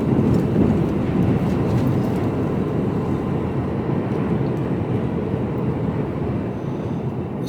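A train rumbles past close by, heard from a Mercedes Actros truck cab in Littlehampton, UK, a steady heavy roar of rolling wheels with faint rattling, continuous and loud throughout.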